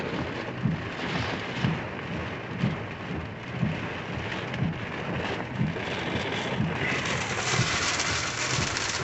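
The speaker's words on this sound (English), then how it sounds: "It's just pouring rain, so I'm trying to decide what to do here." Heavy rain pours down hard during a windy storm with fallen trees nearby, a dense continuous roar with soft low thumps recurring about once a second.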